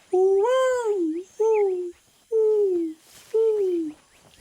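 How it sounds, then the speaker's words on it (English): A jungle bird in the Sea of Thieves video game gives four drawn-out, whining calls that slide downward, each about half a second long with short gaps between them, loud and close. "it's not like a typical bird noise, and it sticks out across like the rest of the foliage"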